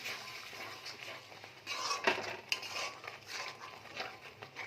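A spoon scrapes and clinks against a pan while coconut milk is stirred into prawn malai curry gravy, soft irregular stirring with a couple of sharper knocks over a faint simmer, no voices.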